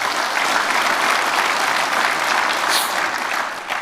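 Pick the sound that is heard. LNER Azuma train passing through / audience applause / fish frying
audience applause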